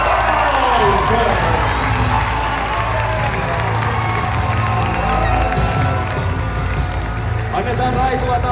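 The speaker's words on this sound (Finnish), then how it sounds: "Annetaan raikuvat aplodit myös hänen haastajalle, hyvät naisherrat, Melissa St. Bill" A large crowd at a women's heavyweight fight night applauds and cheers for the challenger, a dense continuous roar of clapping and shouting with a voice over a loudspeaker announcing on top.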